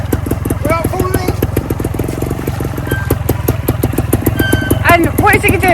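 A trials motorcycle putters along at very low speed under delicate throttle and clutch control, a steady, near, pulsing engine idle that rises slightly toward the end, with people talking over it.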